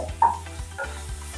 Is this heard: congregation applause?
no